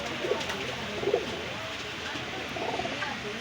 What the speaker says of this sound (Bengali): এটা জিরা কবুতর